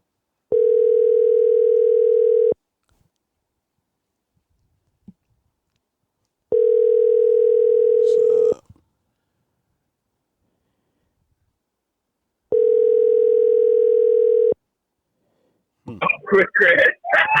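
A steady telephone ringback tone sounds three times in two-second bursts with silences between, then a voice begins talking at the end.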